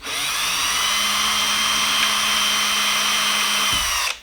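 A power drill runs steadily close by for about four seconds, widening a rivet hole through aluminium foil into a sacrificial board, with a high whine and a low hum before stopping abruptly.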